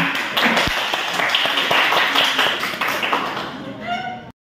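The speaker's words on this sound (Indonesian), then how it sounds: "Tepuk tangan." A classroom of students applauds after a storytelling presentation, a burst of scattered hand claps with some voices mixed in that tapers off and cuts to silence near the end.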